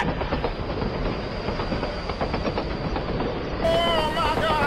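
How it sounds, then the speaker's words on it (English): A train rumbles past in the BeamNG driving game with steady rhythmic clickety-clack of wheels on rails, loud and close, ending in a sharper metallic squeal. "Oh my god, train!"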